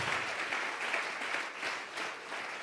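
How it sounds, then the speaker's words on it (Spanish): A church congregation applauds in a dense, continuous wash of clapping that stays fairly even throughout, with no voices above it. "Vamos a regalarle ofrenda de palmas al Dios de la gloria."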